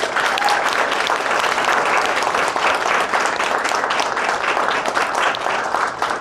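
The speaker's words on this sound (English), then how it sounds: "So with that, round of applause for everybody." An audience at a community panel event applauds the panelists in a steady, full round of clapping that stays loud for the whole stretch and only begins to taper at the very end.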